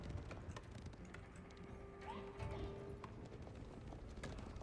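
Horse galloping in the video game Age of Empires 4, a faint stream of clip-clop hoofbeats under soft game ambience and scattered clicks.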